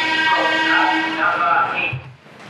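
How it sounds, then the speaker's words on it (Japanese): A rapid train bound for Ogaki pulls away and runs along, its steady motor whine and rolling rumble fading near the end, with a voice talking over it. "豊橋駅からお世話になった快速の大垣行きが大垣駅へ向かって再び走り始めました。"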